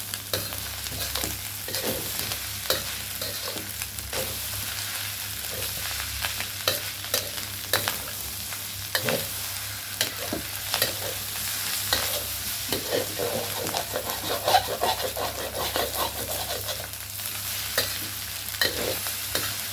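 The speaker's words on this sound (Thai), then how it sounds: "ข้าวข้าวผัดเองต้องใช้ตะหลิวแข็งๆ" Thai fried rice with fermented pork being stir-fried in a pan, a hard spatula scraping and tossing the rice in steady, busy strokes over a constant loud sizzle, close up with no talking.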